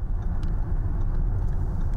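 An Audi Q8 SUV engine drones steadily while the car drives on the road, a low, even rumble with road noise underneath, constant and fairly loud throughout.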